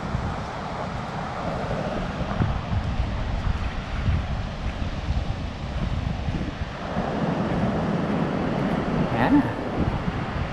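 Pacific Ocean surf on an Oregon beach with rocks and cliffs: a constant broadband wash of waves mixed with buffeting wind noise on the microphone, swelling louder in the second half.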